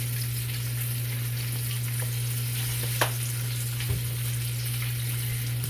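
Seasoned eggs being stirred in a bowl while preparing fried chicken batter, a faint soft scraping with a couple of light taps over a constant low hum.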